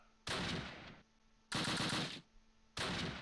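Mortar fire in the WWII strategy game Close Combat Last Stand Arnhem, three loud separate blasts of crackling gunfire-like bursts spaced about a second apart, each cutting off abruptly to quiet background.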